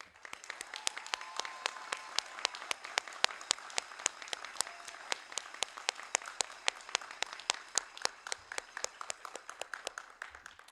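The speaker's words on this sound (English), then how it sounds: "Round of applause for this event." Steady applause from an audience at a military A-School graduation ceremony, dense clapping throughout with sharp individual claps standing out, sustained at an even level for the whole stretch with no talking.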